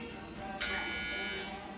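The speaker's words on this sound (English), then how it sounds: "Your beeps should be coming." A single loud electronic beep, a sustained high buzzing tone of about one second, rising sharply over a quiet background.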